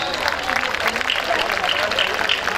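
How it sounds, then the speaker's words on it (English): An audience at a school annual day function applauds in a steady wash of dense clapping at moderate loudness, with faint voices mixed in. "loud applause."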